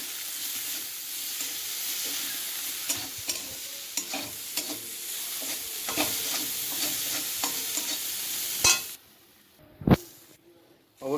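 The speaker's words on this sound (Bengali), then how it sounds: "যে পরিমাণ মতো হলুদ লবণ দিয়ে একটুখানি ভাজবো" Masoor dal frying with turmeric and salt in a pan, a steady close sizzle broken by repeated scraping stirs, before dropping to near quiet with a few sharp knocks near the end.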